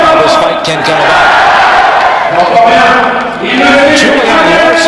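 A boxing arena crowd roars and cheers steadily as a fighter makes his entrance through smoke and lights, a dense wash of voices carrying under a commentator's talk.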